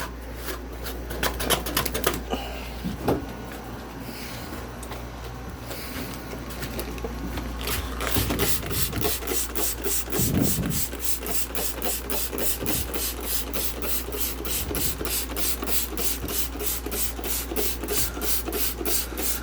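A dirty cooling coil on a 1980s Oasis refrigerated drinking fountain is scrubbed with a brush, giving close, steady rasping strokes that settle into a fast, even rhythm over a low constant hum.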